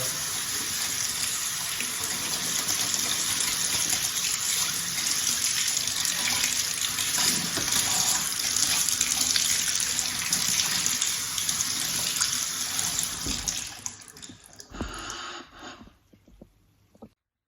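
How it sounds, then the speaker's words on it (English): A cold tap runs steadily into a sink over chickpeas being rinsed, with a constant rushing splash, close up, then shuts off near the end, leaving quiet. "we're going to give it a good rinse with cold water."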